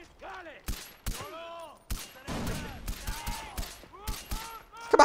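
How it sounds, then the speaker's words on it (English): Gunfire and explosions crackle in Far Cry 4 gameplay, with sharp bursts of shots and bangs scattered through the scene while voiced tones and other game sounds sweep up and down between them. "Oh, that's a grenade behind me."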